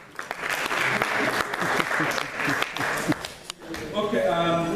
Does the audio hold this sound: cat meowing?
no